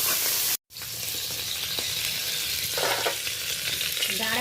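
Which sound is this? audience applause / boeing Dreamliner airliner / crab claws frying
crab claws frying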